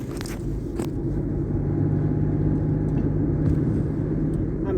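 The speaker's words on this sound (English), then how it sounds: "I'm sorry for the background noise, me driving and all." Steady low road rumble from inside a moving car, fairly quiet and constant, with no talking.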